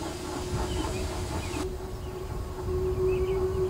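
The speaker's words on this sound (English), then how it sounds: "the air was filled with the sound of an approaching engine" A train engine approaches, a low, steady rumble carrying a sustained hum that grows a little louder toward the end, heard alone without talk.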